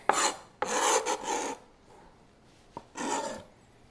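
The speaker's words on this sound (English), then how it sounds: "with what you've got on the cutting board, I like to just scrape that up." Cheese bits scraped off a cutting board in several short rasping strokes, close and fairly loud, separated by brief pauses.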